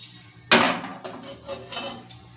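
A utensil stirs cumin seeds in a metal pot while cooking dal fry, giving one loud clank followed by a few lighter scraping taps, close and with no talking.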